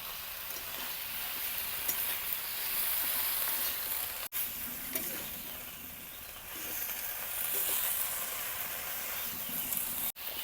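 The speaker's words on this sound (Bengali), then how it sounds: "এখন পেঁয়াজ রসুন বাটাটা দিয়ে আরও 5 মিনিট ভালো করে ভেজে নেব।" Onion-garlic paste fries in a pan with bottle gourd shoots for a dried fish curry, producing a continuous close hiss and sizzle with faint stirring, steady for about ten seconds and free of talk.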